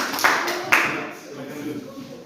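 A group clap in a classroom: two sharp, close claps followed by fading, scattered clapping as voices murmur in the room.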